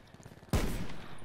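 A single loud, sharp gunshot in Call of Duty: Black Ops 4 multiplayer cracks out of quiet game ambience, and its rumbling tail lingers afterward.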